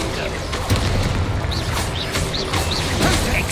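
Fiery Confringo spell blasts from the Hogwarts Legacy video game, a dull booming burst with crackling whooshes in busy game audio, with voices talking over it.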